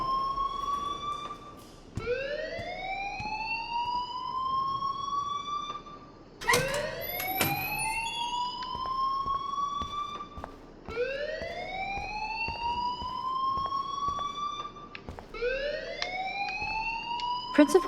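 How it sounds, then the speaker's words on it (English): An alarm blares repeatedly in the video game Life Is Strange: loud rising siren-like whoops, about four to five long sweeps, continuous and dominant throughout. "please turn off that alarm since that's your job"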